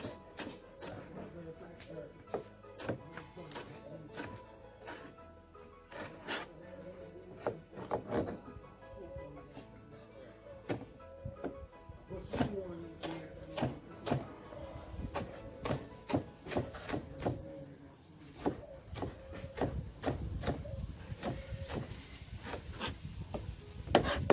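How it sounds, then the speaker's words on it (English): A knife chopping a sweet pepper on a board, with a long run of irregular, sharp close taps and scraping strokes, and faint talk underneath. "I'll cut up this sweet pepper"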